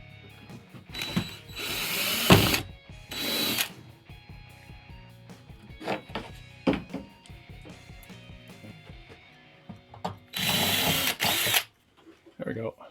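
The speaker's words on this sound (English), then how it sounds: "Drill through." A power drill whirs in short bursts while drilling through window trim in a bus conversion, a longer run near the end, with quiet talk and handling noises between.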